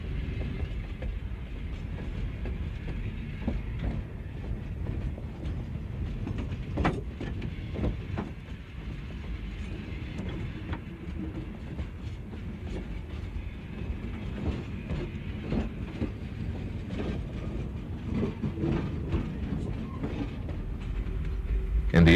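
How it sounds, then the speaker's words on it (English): A Milwaukee Road train crosses U.S. Highway 10, the Yellowstone Trail, heading into the Alberton yards, giving a steady close rumble with rhythmic wheel clicks throughout. "Here the train passes over the Yellowstone Trail, U.S. Highway 10, on its way into the yards at Alberton."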